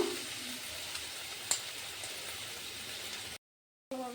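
Onion, garlic and ginger paste fries in a pan with a soft, steady hissing sizzle, one small clack midway and a brief silence near the end before the sizzle returns.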